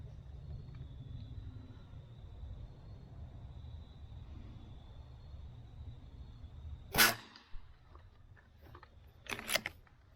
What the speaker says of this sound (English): I'm gonna go ahead and do the next 5-shot group with Crosmans.